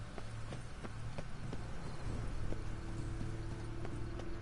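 Horse hooves clip-clop at a steady walking rhythm in The Witcher 3 on PS4, a moderately close, even clatter of hoof strikes over a low ambient game hum, with no talking.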